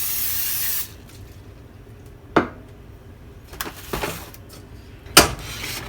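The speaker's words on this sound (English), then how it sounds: "I'm going to spray the top of it." A short spray of oil hisses onto pizza dough for under a second at the start, followed by quiet handling noises and a few soft knocks.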